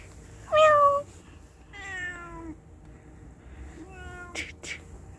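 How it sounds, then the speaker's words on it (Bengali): A cute cat meows three distinct times close by: a loud first call, then two softer, drawn-out meows separated by short pauses. "মিয়াও।"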